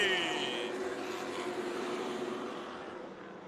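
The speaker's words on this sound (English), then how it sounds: "Green flag, we're racing." Pro trucks roar away at the green flag at Colorado National Speedway. A loud, steady engine drone fills the air and slowly fades as the pack moves off, under a voice.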